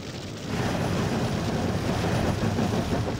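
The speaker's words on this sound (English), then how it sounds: "I feel like the train is coasting quite nicely to a halt over here." Steam train in the Trainz game coasting toward a halt with the regulator closed, a steady rumbling roll of wheels and carriages that swells in after a quiet start and holds at a moderate level.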